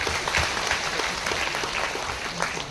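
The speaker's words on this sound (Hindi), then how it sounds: "थोड़ा सा ताली मार दीजिए।" Audience applause at a third foundation day event, dense steady clapping from a crowd throughout, moderately loud and fairly close with no speech over it.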